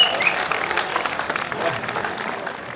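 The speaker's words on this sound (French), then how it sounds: "Moi je veux qu'on applaudisse, mais très très fort mes bénévoles" An audience at a village festival day in Paizay-le-Sec applauds the volunteers, a steady, moderate wash of clapping that continues throughout, with a voice faintly audible over it.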